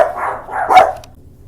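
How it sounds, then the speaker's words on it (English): Small chihuahuas barking indoors, a short burst of a few sharp yaps close by, fairly loud, with no talk over them. "Those are what we call killer chihuahuas."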